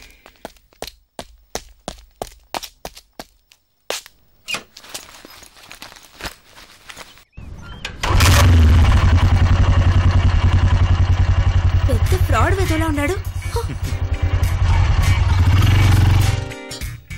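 A motorcycle engine fires up loudly after a run of sharp footsteps and knocks, then idles steadily in a strong low rumble close by for about eight seconds before cutting off.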